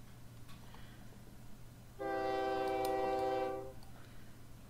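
In a train simulation game, a train's horn blasts once for nearly two seconds, loud and steady over a low, constant rumble of running trains.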